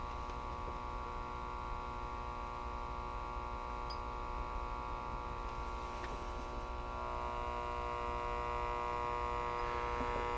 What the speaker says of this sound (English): that transformer's humming like a